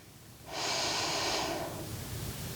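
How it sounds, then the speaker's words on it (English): A single deep breath drawn in through the nose during a yoga session, a long, close, airy inhale of about a second that fades into quieter breathing. "take some nice deep breaths in through the nose"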